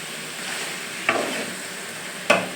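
Masala for a simple chicken gravy fries in a pan under a steady sizzle, as a spoon gives two distinct scraping stirs against the pan, close and clear without any talking.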